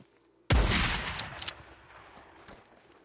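A single gunshot from a gun in the video game Days Gone, a sudden loud blast followed by a long rolling echo and a few crackling reports that fade over about two seconds.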